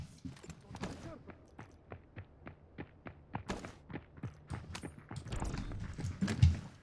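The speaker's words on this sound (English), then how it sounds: "I can hear footsteps and it's freaking me out." Footsteps in the Delta Force shooter game, a steady run of soft thuds pacing through the scene at moderate distance, with other game sounds building near the end.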